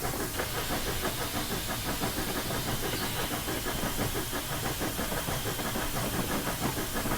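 A steam locomotive in the Train Simulator 2016 video game, on a snowy run from Silver Plume to Golden: a steady, loud hiss over a fast, even chuffing pulse, continuous and without talk.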